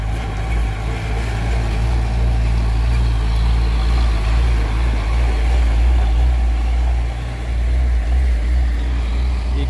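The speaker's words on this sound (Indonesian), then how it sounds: "Ada truk molen lagi nih. Muter terus molennya itu." A concrete mixer truck's engine runs steadily with a low, constant diesel rumble and a rotating drum, loud and close, with no speech.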